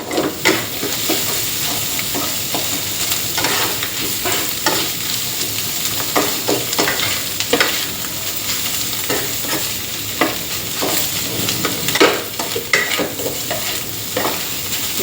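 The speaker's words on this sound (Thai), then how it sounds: "จากนั้นผัดอีกสักห้านาทีสามถึงหานาทีค่ะ" Preserved radish and egg stir-fry in a hot pan, with a steady loud sizzle and a rhythmic scrape and clatter of the spatula repeating through the whole stretch.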